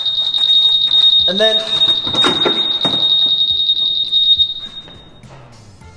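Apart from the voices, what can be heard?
Honda Super Cub motorcycle anti-theft alarm going off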